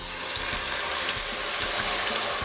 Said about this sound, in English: you'll just start hearing all that fun popping, sizzling